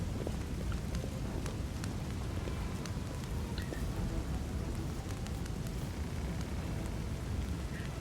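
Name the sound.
rain in Pathfinder: Wrath of the Righteous video game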